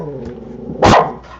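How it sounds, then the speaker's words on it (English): One loud, sharp bark close by breaks through a low hum, followed by a softer trailing sound. "Apologize for the dog going nuts."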